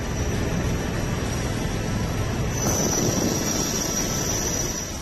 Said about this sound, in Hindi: जवानों के साथ सेना के हेलीकॉप्टर निकल पड़े मदद के लिए।